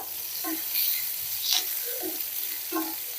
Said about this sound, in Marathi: आणि हे लसूण एकदम बारीक ठेचल्यामुळे पटकन लाल होतो